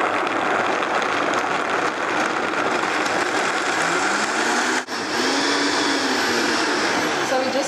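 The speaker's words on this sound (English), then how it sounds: "Pop the Vitamix on, or you can do this with a powerful blender that you have." A Vitamix blender runs steadily on high power, blending almonds into nut milk; a loud, continuous motor whir with a brief dip near the middle, with no talking.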